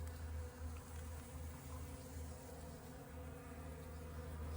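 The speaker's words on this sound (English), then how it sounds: "It's amazing how many bees there are" Steady, dense buzzing of many bees droning together around flowering cactus plants in a garden, close and continuous throughout with no talking.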